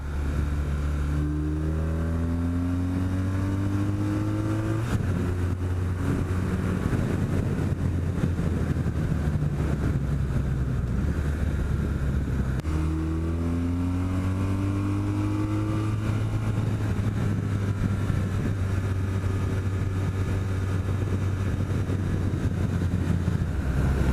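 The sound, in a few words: BMW R1200 motorcycle engine while riding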